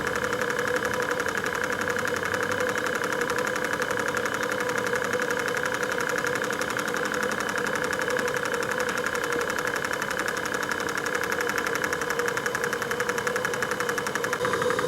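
An engine spinning a 70mm prop runs at steady revs, a continuous buzzing drone with a knocking pulse, close and loud for the whole stretch without any change in pitch.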